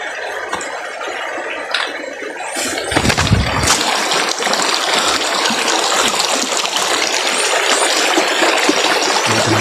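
Water rushes and splashes loudly and close, a dense churning gush that swells after a few seconds and keeps pouring steadily to the end.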